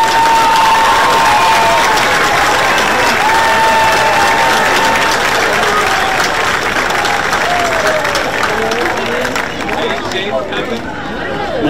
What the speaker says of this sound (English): let's give a round of applause to our King and Queen